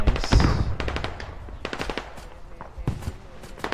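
Rapid bursts of gunfire from a squad-based shooter game, a loud close volley at the start followed by scattered shots and quicker automatic strings, some near and some farther off.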